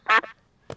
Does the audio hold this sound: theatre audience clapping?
no